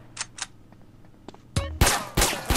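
Video game gunshots in a mafia jail-cell scene: a few faint clicks early on, then a loud close burst of shots near the end, with sharp heavy blasts following one another.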